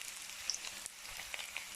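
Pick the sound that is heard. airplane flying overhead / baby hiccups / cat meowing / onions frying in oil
onions frying in oil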